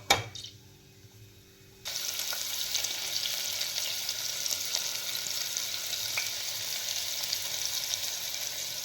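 Cardamom pods go into hot oil in a pan for a baby jackfruit gravy: a brief knock, a quiet pause, then a loud, steady, close sizzle of frying that carries on to the end, with no speech.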